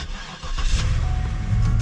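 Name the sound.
Cadillac DTS V8 engine starting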